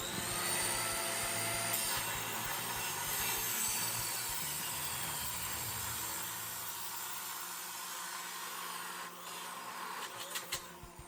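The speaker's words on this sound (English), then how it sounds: "I'm gonna have to cut this one and bring it on more of a 45-degree angle" A turbo pipe from a turbo install on a Cadillac Escalade is cut at a 45-degree angle, giving a steady, loud, continuous abrasive cutting whine that runs for most of the clip before tapering off near the end.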